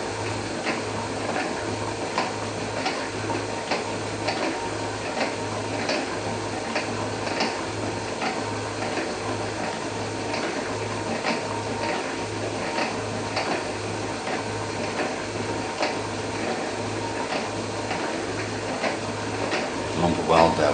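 An Atlas metal shaper runs with a steady, even rhythmic ticking and clunking as its ram strokes back and forth, touching off and cutting a welded workpiece, with machine hum throughout.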